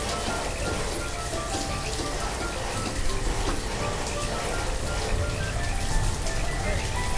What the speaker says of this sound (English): that rain makes me cold just thinking about it.